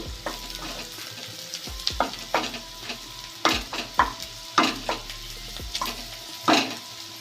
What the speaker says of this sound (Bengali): পেঁয়াজটা একটু ভাজা ভাজা হলে আমি রসুন ও আদা কুচি দেবো